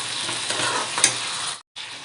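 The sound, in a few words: chicken with tomatoes frying and being stirred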